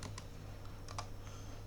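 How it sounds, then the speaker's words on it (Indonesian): Typing on a computer keyboard while writing HTML: a handful of quick, light keystrokes in small bursts, close but soft, over a low steady hum with no talking. "lalu kita akan masuk ke HTML-nya dan akan mengetikkan perintah atau isi dari HTML tersebut"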